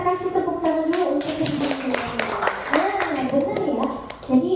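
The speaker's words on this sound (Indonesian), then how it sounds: "kita kasih tepuk tangan dulu untuk" A group in a classroom setting claps hands together, quick irregular claps under and between talking voices, fairly close.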